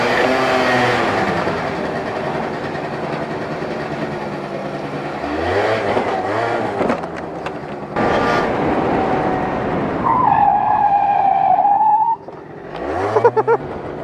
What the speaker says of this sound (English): bike is idling really funky right now